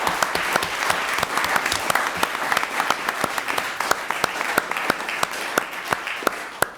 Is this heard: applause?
yes